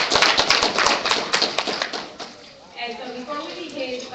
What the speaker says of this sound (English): we can get a round of applause for our panelists